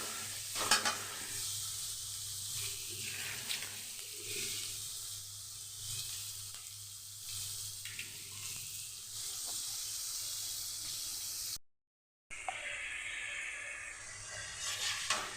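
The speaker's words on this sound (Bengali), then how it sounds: "টমেটোটা খুব ভালো করে আমাকে ভাজতে হবে" Salted tomatoes frying soft in a pan for a vegetarian capsicum paneer dish, giving a steady close sizzle with stirring scrapes throughout and a brief break near the end.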